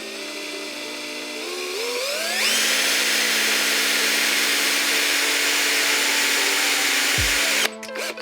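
A power drill spins up with a rising whine, then drills steadily at high pitch, close and loud, before cutting off with a clunk.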